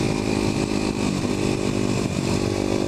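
A Kawasaki KLX250SF supermoto ridden offroad on an ATV poker run trail makes a loud, continuous buzzing engine note that rises and dips slightly as it pulls ahead.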